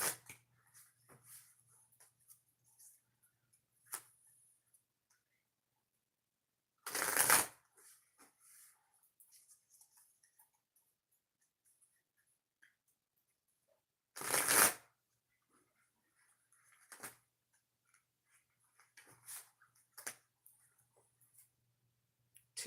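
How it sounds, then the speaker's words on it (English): Tarot cards riffle-shuffled in a quiet room, with two loud bursts of shuffling and soft handling and tapping in between. "3 shuffles, Geminis."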